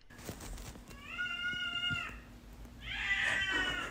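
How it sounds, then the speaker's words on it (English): A cat meows twice, a long drawn-out call followed by a higher, more strained yowl, close and clear with no talking. "Cat"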